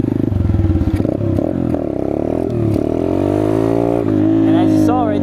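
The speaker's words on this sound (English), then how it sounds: "fully throttle, gassing it, couldn't catch up" A Chinese dirt bike engine is held at full throttle during a wheelie attempt, close and loud, its steady high drone rising and falling slightly in pitch while a voice speaks over it.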